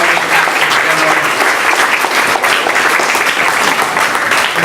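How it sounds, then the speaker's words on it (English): A crowd at a commendation ceremony applauds loudly and steadily, a dense wash of clapping hands filling the whole stretch without pause. "Let's give a big round of applause to our welcoming Deputy Consul General."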